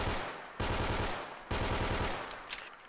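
Two loud bursts of fully automatic, unsilenced fire from an OTs-33 Pernach pistol in Fallout 4, each a rapid rattling stream of shots with a slight tail between them.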